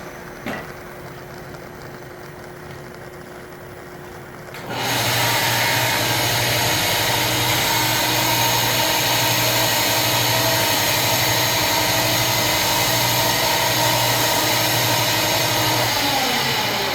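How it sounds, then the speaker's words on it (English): A bandsaw cuts an agave stalk into a flute mouthpiece: a quieter stretch of room noise gives way after about five seconds to a loud, steady whirring motor and blade noise that holds to the end. "I'm going to cut this on my bandsaw."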